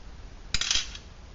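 A metal pot stand set down onto a Jiffy Heat Sportsman's alcohol stove, giving a brief, close metallic clatter of two or three light clinks, then quiet.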